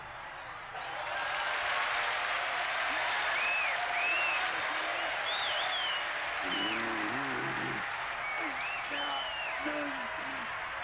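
A crowd applauds Krillin in a Dragon Ball episode, a broad sustained wash of clapping that swells in after a quiet start, with cartoon voices speaking over it.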